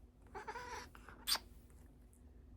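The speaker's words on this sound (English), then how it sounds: "She's not a cuddly cat. Hey, she's my witchy black cat." A black female cat gives one short, strained meow up close in a quiet indoor room, with faint rustling before and after.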